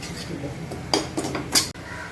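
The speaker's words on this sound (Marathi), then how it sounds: "हे बघा आता हे चांगलं मिक्स करायचं, मसालो हळद बिळद कांद्यात एकजीव करून घेऊ" A spoon stirs turmeric and spices into onions in a pan for a dry jawala dish, scraping and clinking against the metal in a few close, fairly loud bursts.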